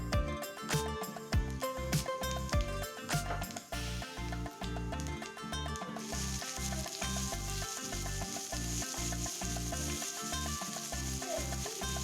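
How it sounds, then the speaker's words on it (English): Cumin seeds toast in hot oil over a medium flame for potato bonda, a soft crackling sizzle running beneath louder rhythmic background music, with the frying hiss growing more noticeable in the second half. "Next, I add the small jeera seeds and toast them for 10 to 15 seconds"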